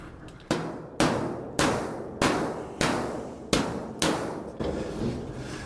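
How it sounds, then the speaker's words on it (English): A wooden hammer works down the metal body of a 1938 custom Cadillac with nine sharp, evenly spaced strikes about half a second apart, each ringing briefly before the next blow. "Let me get the wooden hammer and just work this down a little bit."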